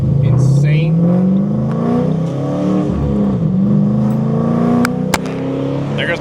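A 2005 Ford Mustang GT 3V V8 revs loudly from close by, its engine note climbing and falling in long sweeps with a droning exhaust and a couple of sharp clicks.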